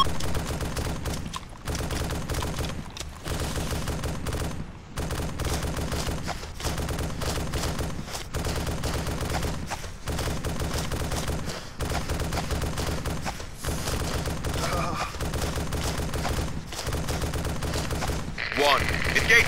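Sustained machine gun fire from an enemy gunner in the Arma 2 military game, loud and nearly continuous bursts with a few brief pauses, dense rattling shots filling the scene throughout.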